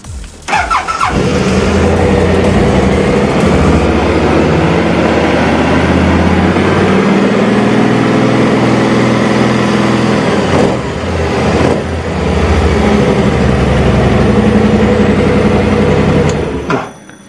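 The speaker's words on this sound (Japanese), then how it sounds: "エンジンの調子はもちろんいいです。" A 2016 BMW C650 Sport Highline scooter engine runs steadily and loudly up close, a continuous low drone with slight swells in pitch as it idles and revs.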